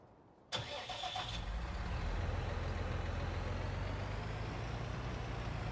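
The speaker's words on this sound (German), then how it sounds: "Und mal das Fahrzeug hier starten." A farm vehicle in the Farming Simulator 19 video game cranks briefly and starts, then settles into a steady, low, rumbling idle that continues on its own.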